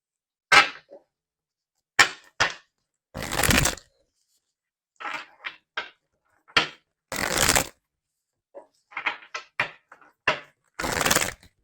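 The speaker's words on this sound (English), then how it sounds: "let's get some more cards to see more of what's going on here." Tarot cards shuffled in several quick riffled bursts with short crisp taps and snaps between them, close and clear with no talking.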